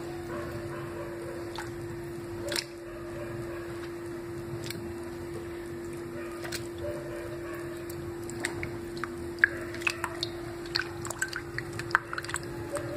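Water sloshes and drips as pieces of petha are rinsed in clean water, with small splashes and clinks growing busier toward the end over a steady low hum.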